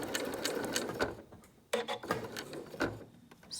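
A sewing machine stitches a fabric face mask in rapid mechanical bursts, close and clear, pausing briefly midway before running again toward a corner.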